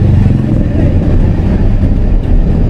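Car engine held near 2000 RPM in third gear while driving in economy mode on a winding road, a steady loud low drone with continuous rumble and no clear revving changes.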